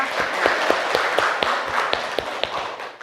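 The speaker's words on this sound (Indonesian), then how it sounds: "Oke, kasih aplaus untuk Naufal." Classroom of students clapping for a classmate, a brief burst of dense applause with a few sharper claps standing out, fairly close and steady before tapering off at the end.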